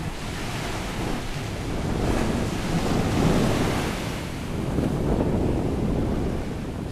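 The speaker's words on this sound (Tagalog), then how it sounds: "ito Atlantic Ocean na to" Atlantic Ocean waves washing onto a beach, a steady roaring surf that swells and recedes, mixed with strong wind buffeting the microphone, with no voices.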